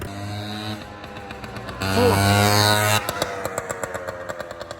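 A scooter engine runs flat out, a loud buzzing drone with strong harmonics that climbs in pitch, holds, then settles into a pulsing idle-like throb, heard up close.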